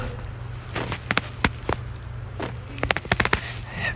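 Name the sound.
Desert Eagle gunshots in a shooting video game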